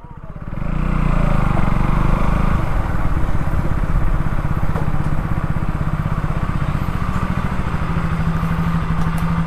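A motorcycle engine idles close by during parking at a hill-country hotel, a steady low chugging rumble that swells after a brief quieter start and then holds, continuous and fairly loud.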